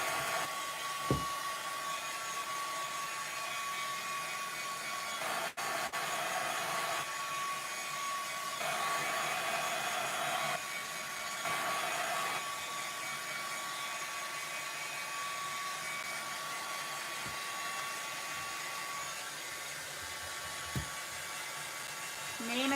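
Steady, close whirring blast of a heat tool held on a steampunk butterfly craft piece to set it, running continuously with slight changes in pitch and a few faint clicks, with no one talking over it.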